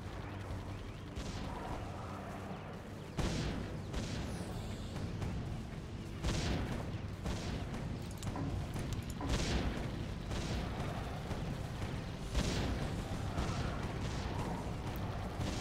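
Level 3 gun towers firing in the Defense Grid video game, repeated sharp bursts of gunfire and booms at irregular intervals over a constant low drone, moderately loud, no voices.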